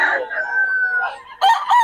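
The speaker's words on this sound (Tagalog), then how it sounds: "Ayan mga manok ng Boss Perry." A rooster crows in one long drawn-out call, close and clear, with a brief second burst of crowing or clucking at the end, in a gamefowl breeder's yard.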